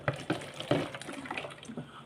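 Liquid is poured into a pot with irregular soft splashes and gurgles close by, fairly quiet, with no talk.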